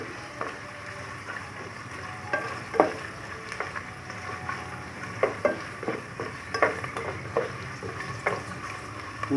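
Chayote sautés in a pan, a steady sizzle running under repeated clinks and scrapes of a utensil stirring against the metal, close and continuous, with no talking.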